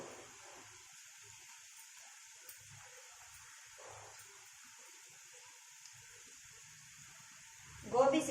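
Gobi pakodi, cauliflower fritters in rice-flour batter, fry in hot oil with a soft, steady sizzling hiss; it stays faint and even throughout, and a short burst of voice comes in at the end.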